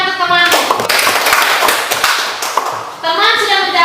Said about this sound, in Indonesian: tepuk tangan untuk teman